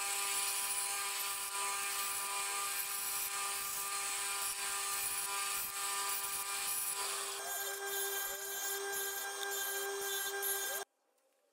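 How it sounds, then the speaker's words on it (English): A router-style slot cutter runs steadily through wood, cutting a 6mm wide slot along a mitred joint, a sustained high whine with a shift in pitch partway through, then stopping abruptly near the end. "using my slot cutter again, I cut a 6mm wide slot along the whole length of the join"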